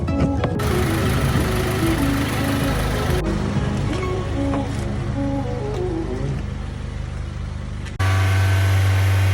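A Lamborghini engine cranks over and over without catching, a steady loud mechanical churn with tonal whine, ending in a different sustained hum near the end.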